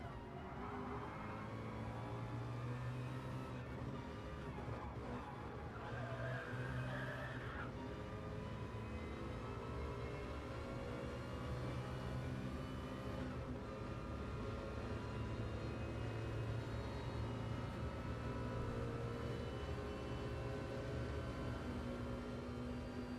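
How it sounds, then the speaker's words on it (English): LMP1 prototype race cars lap Le Sarthe without the chicane in a racing video game, with continuous loud engine drone and shifting pitch as cars pass, no talking. "I'm going to kind of shut my mouth for a second and just let you guys listen to these cars."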